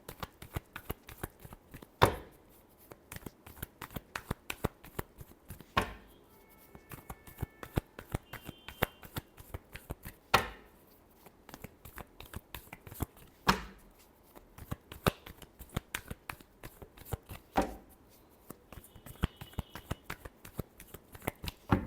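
Tarot cards are shuffled by hand in a quiet room, with a rapid, steady patter of soft riffling taps and occasional sharper snaps, close and fairly faint, with no voices.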